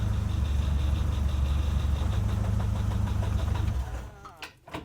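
Tired old muscle car engine idling with low oil pressure, a loud, rough, steady rumble with a faint knocking pulse that cuts off near the end, followed by a few clanks.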